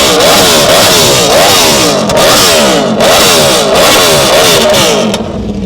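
A Kawasaki ZX-6R sport bike engine is revved hard and close, with loud repeated throttle blips that rise and fall in quick succession and no talking.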